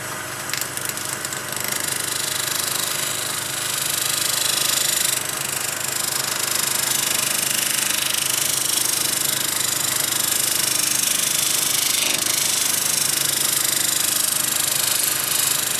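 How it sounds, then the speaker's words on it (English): A wood lathe spins steadily while an Iles 1/2-inch round nose scraper works the piece for a metal inlay, giving a continuous mid-level whirring hum with light scraping texture throughout and no talk. "I'm just going to tackle this with my round nose scraper. This is the Iles 1/2-inch round nose scraper that I'm going to use."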